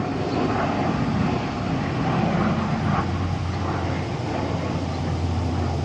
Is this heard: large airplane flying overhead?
yes